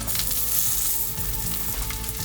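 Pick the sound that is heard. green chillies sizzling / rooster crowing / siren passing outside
green chillies sizzling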